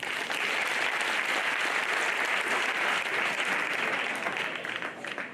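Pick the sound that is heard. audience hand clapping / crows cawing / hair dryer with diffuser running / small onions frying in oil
audience hand clapping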